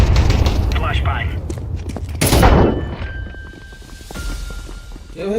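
A flashbang grenade bursts in a video game with a sharp broadband blast, followed by a ringing high tone that fades out over several seconds against a low rumbling background.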